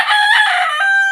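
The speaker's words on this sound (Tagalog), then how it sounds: "oras na ng patuka ng manok." A rooster crows loudly and close by on a backyard poultry setup, one sustained cock-a-doodle-doo lasting about a second with no voices.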